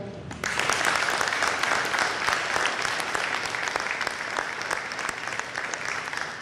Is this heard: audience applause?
yes